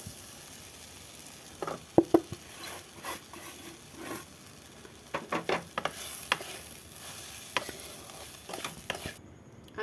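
Semolina is stir-fried with vegetables and spices in a pan, giving a low sizzle broken by irregular scraping and clinking strokes of a spoon against metal.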